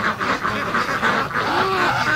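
Muscovy ducks and geese at a lake quack and honk together in a dense, continuous chorus, close and loud.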